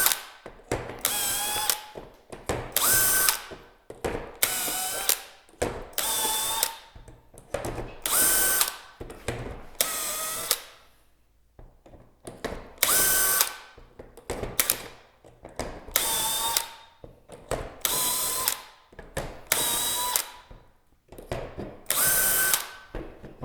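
A power drill whines and bites into wood in repeated bursts of a second or two while drilling holes for closet work, separated by short pauses, close and loud.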